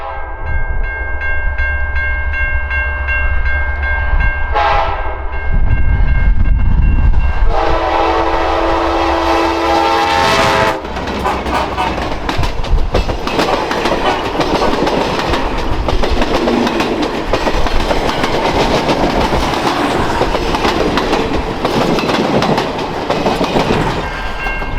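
A train horn blares, then an Alaska Railroad passenger train rumbles loudly along the rails on a straight stretch of track, with rhythmic clickety-clack of wheels, close and sustained.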